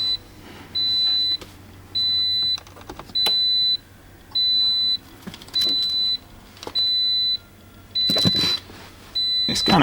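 A Toyota GT86's warning chime beeps with nothing connected, a loud, steady high tone sounding in a regular on-off rhythm about every second, with faint clicks and handling noise between beeps.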